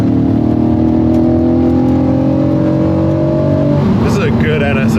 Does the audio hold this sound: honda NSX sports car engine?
yes